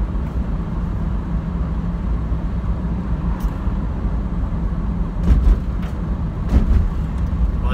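An Opel car with a temperamental alternator drives along a road toward Nurmo, Finland, giving a steady interior rumble of engine and road noise with a few brief bumps and rattles.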